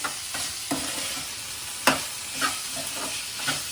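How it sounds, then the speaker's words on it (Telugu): Ghee tempering (talimpu) for dal crackles steadily nearby, a soft continuous sizzle broken by sharp intermittent pops and spoon taps, with no talking. "తాలింపు పెడతాను, నెయ్యి వేస్తాను."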